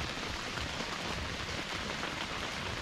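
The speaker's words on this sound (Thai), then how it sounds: "นี่ฝนตกนะครับฝนตกจริงๆนะครับ" Steady rain pours onto a hiking tent in a Suan Phueng camping area, a dense continuous patter of drops drumming on the fabric close by with no pauses and no voices.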